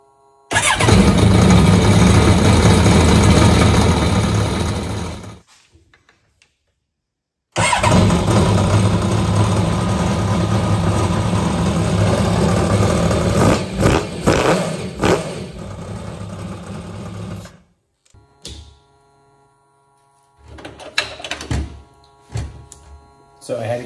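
Yamaha MR1 SBT engine cranking and firing after fuel is primed to the rail, running loud and close for several seconds, stopping, then catching again into a steady idle that gives way to scattered clunks near the end.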